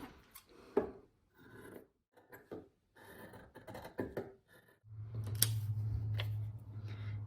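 Scissors cutting fabric for a back strap in a sewing session, with repeated short snips and rustling cloth, followed by a steadier low hum under the later cuts.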